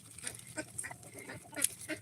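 Ducks on a farm giving short, scattered nasal quacks and honks at close range, several calls overlapping over a soft background, no speech.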